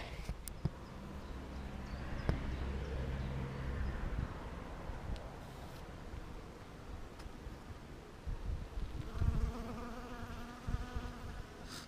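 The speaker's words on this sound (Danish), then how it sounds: "Vi skal også se på de bier her." Bees buzz steadily at close range, a continuous droning hum with occasional louder passes and some knocking sounds, with no voices.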